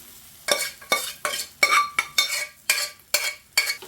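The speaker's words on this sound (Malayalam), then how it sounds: "ഇതിപ്പം നല്ലതുപോലെ നമ്മൾ ഇളക്കി യോജിപ്പിക്കുന്നുണ്ട്" Green gram (cherupayar) thoran being stirred with spice paste in a pan, a spoon scraping in about nine evenly spaced, close strokes with no voices.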